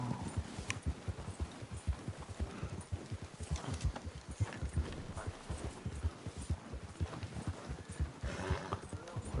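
Horse hooves clip-clop steadily while riding in the video game Red Dead Redemption 2, a close, rhythmic trotting beat that continues throughout, with an occasional whinny and faint game ambience.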